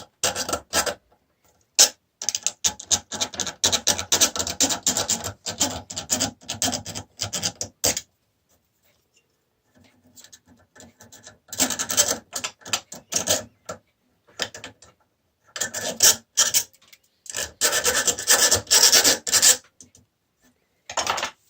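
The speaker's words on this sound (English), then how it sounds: "I'm going to get this little round file and take the edges down inside here" A small round file rasps along the edges inside a hidden storage compartment of a Ford F150, loud close scraping strokes in long rhythmic bursts separated by short pauses and one longer silence.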